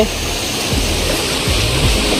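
Loud, steady rushing water fills the whole clip, a close, continuous wash of a flowing stream with no pauses.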